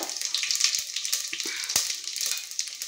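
Cumin seeds and dried red chilies sizzling in hot oil for an Andhra-style sambar tempering: a soft, steady hiss and crackle with small pops and a couple of clinks from the pan, fairly quiet and close, no voices.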